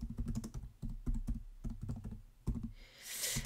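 Rapid keystrokes clatter on a computer keyboard nearby, an uneven burst of individual taps with brief pauses, ending in a soft rustling noise.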